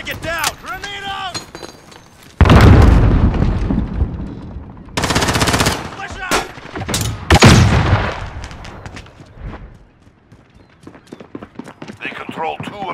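Heavy automatic gunfire and a loud grenade explosion roar in a Call of Duty: Modern Warfare firefight, with dense bursts of shots and blasts near and loud, interrupted by brief lulls, while voices call out over the combat.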